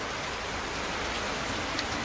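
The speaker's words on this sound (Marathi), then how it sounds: "आणि पाऊस कसा काय आला मग" Steady, dense rain falls outdoors, a continuous close hiss of drops with no pauses and no voices.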